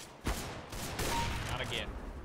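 Rifle fire in CS:GO deathmatch, a sharp gunshot crack followed by further bursts of shots under loud close talking from a player.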